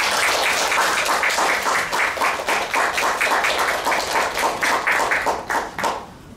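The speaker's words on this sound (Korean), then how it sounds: "우리 김일철 선생님 박수로 환영해 주시기 바랍니다." Dense, sustained audience applause welcomes guest speaker Kim at an indoor lecture on the independence movement and the Korean Catholic Church; many hands clap steadily and the sound tails off near the end.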